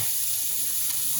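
Parboiled potatoes go into a hot tray of beef dripping, giving a loud, continuous sizzling hiss from close by.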